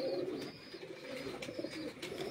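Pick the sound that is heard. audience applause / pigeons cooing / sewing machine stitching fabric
pigeons cooing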